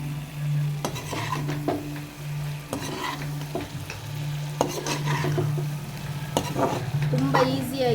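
Roasted egg pieces for egg 65 stirred in a pan of hot oil, with a steady close sizzle and repeated scraping, clinking strokes of a spoon against the pan throughout.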